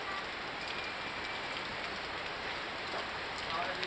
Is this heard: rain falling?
yes